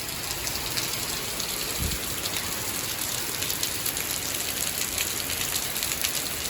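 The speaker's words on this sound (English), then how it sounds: "Even more rain." Heavy rain pours steadily, a dense unbroken hiss of drops close by with no voices.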